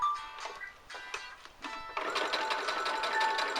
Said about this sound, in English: we've just finished at the machine, so we've stitched across the top here